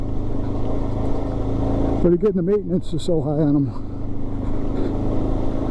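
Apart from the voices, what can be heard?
Suzuki DRZ motorcycle engine while riding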